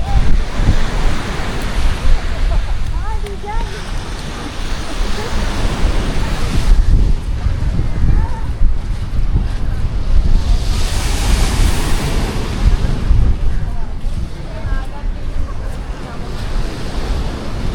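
Strong sea waves wash onto a beach in a steady, loud roar of surf with gusts of wind buffeting the microphone, continuing throughout with a swelling crest near the middle and no clear talk on top.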